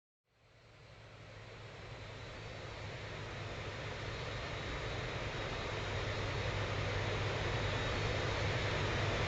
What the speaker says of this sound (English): There is a Ryanair 737. Hard landing? Of course.